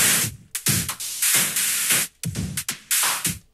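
A drum beat run through an Ableton vocoder with the filter release time automated produces bursts of bright, noisy, hissing texture that pulse in choppy rhythmic chunks with abrupt gaps, loud and alone.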